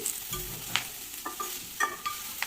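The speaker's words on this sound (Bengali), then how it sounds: "আরও এক দু মিনিট একটু নাড়াচাড়া করে নেব গ্যাসের ফ্লেমটাকে মিডিয়াম লোতে রেখে" Spiced cauliflower leaves with turmeric and salt stirred and fried over a medium-low gas flame, with a steady soft sizzle broken by several sharp scraping clicks of a utensil against the pan.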